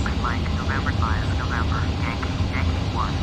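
Airliner engine hum in the Prepar3D flight simulator on a flight from Atlanta to Miami, a steady loud drone throughout, underneath radio chatter and someone talking.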